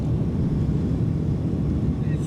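Steady low roar of an airliner cabin during descent toward landing, broad engine and airflow rumble holding constant from start to finish, with the landing gear being lowered.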